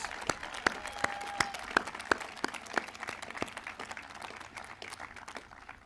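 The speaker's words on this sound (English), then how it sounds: "So let's give a big round of applause to all those sponsoring organizations." Sparse clapping from a small, fairly distant audience at a Midlakes Class of 2020 graduation ceremony, with a few distinct hand claps scattered over a soft, thin patter.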